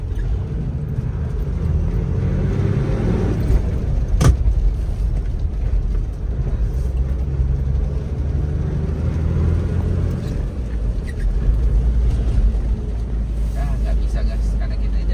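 A Toyota Land Cruiser VX80 engine drones steadily while the vehicle drives along a road, with low rumbling road and wind noise and a brief knock partway through.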